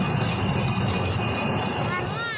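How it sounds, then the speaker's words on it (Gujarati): Toy train running through a large garden at Manilaxmi Tirth in Manej, with a continuous close rolling rattle and a faint metallic squeal toward the end, and voices mixed in. "બીજી રેલગાડી છે"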